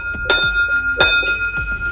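Small antique bells struck one after another, three bright ringing chimes with long shimmering decay, loud and close with no talk.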